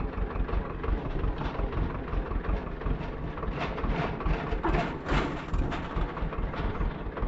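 A tractor pulling a seed drill slowly across a field gives a steady, loud, rumbling engine drone with broadband noise that holds an even level throughout, with no talking over it.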